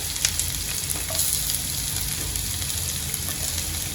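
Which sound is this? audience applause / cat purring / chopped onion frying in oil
chopped onion frying in oil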